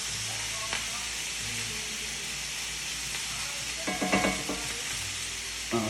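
Avocado and tomato sizzling in a pan while being moved around, a soft continuous fry broken by scraping stirs and a louder burst of clatter toward the end, with a faint hum underneath.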